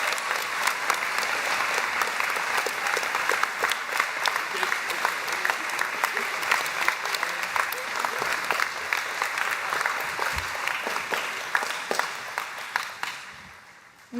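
An audience at a high school commencement ceremony applauds the graduates' parents, sustained close clapping and light cheering that holds steady for about twelve seconds and then fades away.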